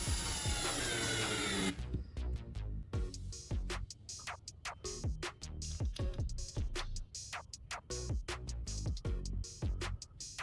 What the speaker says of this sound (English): Now, I'm adding 2 washers and screws to the wooden base.